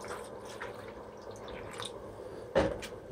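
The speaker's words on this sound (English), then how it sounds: "put water in bowl" Water trickles and drips quietly into a reptile's water bowl, with one brief louder splash near the end, faint and close in a calm indoor space.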